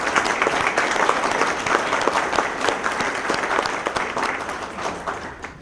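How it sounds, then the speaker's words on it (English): A crowd claps steadily and fairly loudly for several seconds, dense applause that gradually softens toward the end. "So let's give them a round of applause."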